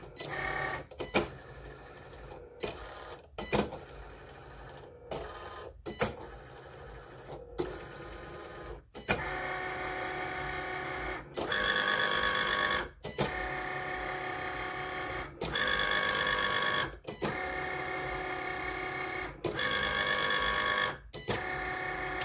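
A Cricut cutting machine scores a lip gloss box, moving in repeated mechanical passes: a whirring motor hum with rhythmic stops and starts and short clicks between runs, close and moderately loud.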